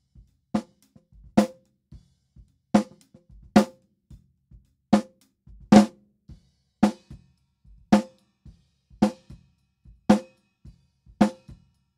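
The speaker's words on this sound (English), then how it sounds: "but the snare sounds like this, completely uncompressed other than the gate." Isolated snare hits from an uncompressed recording with only a gate, struck in a steady beat about twice a second, each crack sharp and dry against near silence, with the peak levels varying from hit to hit.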